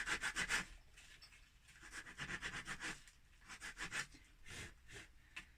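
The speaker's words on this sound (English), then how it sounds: "I gave this white chalk paint a little bit of a sand because I like it to have a kind of a rusty sort of finish." Sandpaper scrubs back and forth over small wooden pieces coated in white chalk paint for a rustic bird feeder, rhythmic close strokes in quick bursts with brief pauses between, quiet and without any talk.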